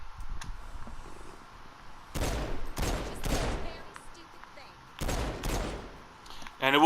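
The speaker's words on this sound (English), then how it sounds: "Okay, I guess you have to shoot it." Gunfire from the video game Saints Row 4 comes in several sharp, loud bursts of shots separated by short pauses, with a final burst at the end.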